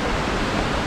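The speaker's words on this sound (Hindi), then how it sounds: "झरना" A waterfall on the Kedarnath Yatra mountain trek gives a continuous, loud, even roar of rushing water with no other sounds.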